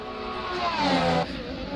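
A Formula 1 car engine in the Assetto Corsa racing game howls loud and close, its pitch climbing then dropping sharply as it brakes into a chicane and final corner.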